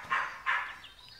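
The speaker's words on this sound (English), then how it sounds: "That dog is so annoying." A dog barks twice in quick succession, fairly close but not loud, each bark short and sharp, followed by quieter trailing sounds and a faint background.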